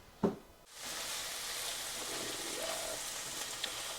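Chickpeas fry in a pan, giving a faint, continuous hiss and crackle that starts after a soft knock and holds steady throughout, with a small tick near the end.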